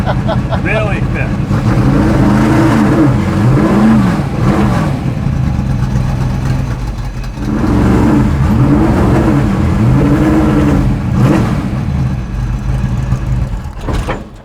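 A Ford GT40 engine revving loud and close, its pitch rising and falling in repeated sweeps over a heavy steady rumble, with people talking over it at times.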